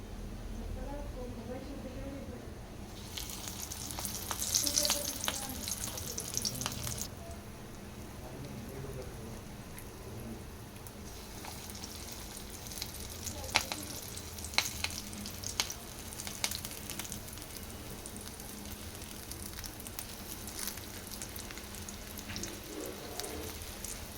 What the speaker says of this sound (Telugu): మిర్చిని ఇలా బాగా ఫ్రై చేసుకోవాలి.